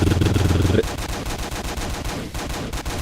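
Rapid gunfire from a scoped gun in the game Ravenfield, a quick string of sharp shots continuing steadily for a few seconds, with a brief low tonal burst at the start.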